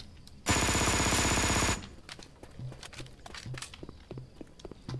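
Uzi submachine gun in a Left 4 Dead 2 mod with Roblox sounds rattles in one loud, fast automatic burst of over a second, then gives way to quiet clicks and soft footsteps.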